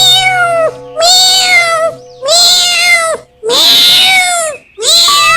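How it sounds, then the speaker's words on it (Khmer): A stray cat meows loudly and close by, five drawn-out, wavering cries in a row with short gaps between them. "អាឆ្មានេះយំ"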